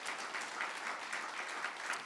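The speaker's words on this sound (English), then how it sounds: "This is where you guys can applaud." A church congregation applauds after a closing prayer, giving a soft, fairly distant wash of steady clapping that holds evenly for a couple of seconds with no talking over it.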